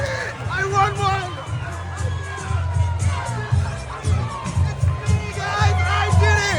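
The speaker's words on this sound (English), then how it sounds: "Make some noise for North LA." A crowd at a breakdance battle between North LA and OC cheers and shouts loudly and continuously, with an amplified voice talking over the noise.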